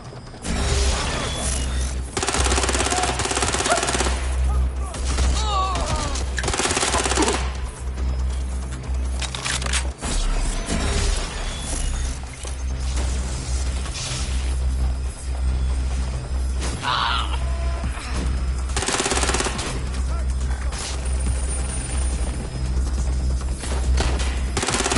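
Game gunfire from a Watch Dogs Legion shootout, with bursts of automatic fire and mechanical clatter over a dense, continuous action soundscape that stays loud for most of the stretch.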